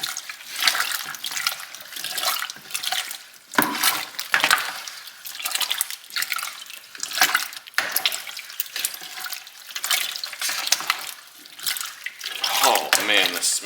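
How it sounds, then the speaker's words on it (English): Pear wine mash being stirred in a brewing pot with a brewer's paddle, giving a steady wet sloshing and swishing that continues throughout, loud and close, with no talk. "Now it's time to stir with the brewer's paddle."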